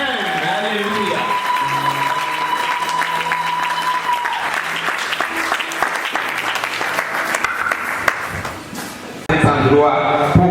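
A church congregation applauds and cheers steadily over sustained music during a sermon service, with voices mixed in and the clapping swelling louder near the end.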